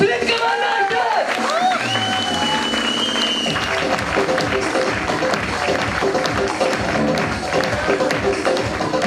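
Dense, sustained audience applause fills a seminar hall, loud and continuous, with a few whoops and musical sounds mixed in near the start.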